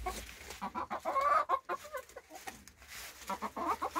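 Backyard hens cluck and murmur close by while being fed lettuce, a run of short, choppy clucks with a few louder squawks and no talk.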